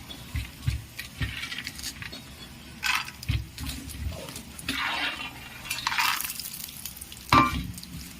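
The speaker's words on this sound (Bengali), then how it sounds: "দেখুন বন্ধুরা, তেলটা গরম হয়ে গেছে। এখানে আমি বাদামগুলো দিয়ে দিলাম।" Peanuts fry in hot oil, giving bursts of sizzling and bubbling with scraping stirs and clinks of a utensil against the pan.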